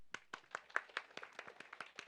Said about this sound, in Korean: 여러분은 여러분 스스로에게 박수를 쳐주세요